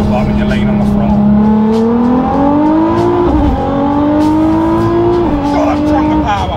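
A 1,000-horsepower Nissan GT-R R35 engine roars loud and close, its pitch climbing steadily through hard acceleration with a brief dip between gears.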